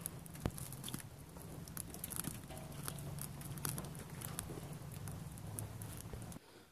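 Rain falls outdoors as a faint, steady patter of soft scattered drops with a low background hum, continuous throughout and fading slightly at the end.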